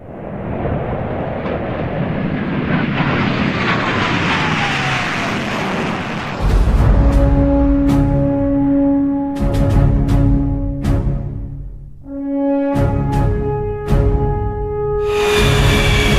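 A Chinese naval aviation fighter jet's engine gives a loud, sustained roar in the first half, with a rising whistle, before steadier tones take over.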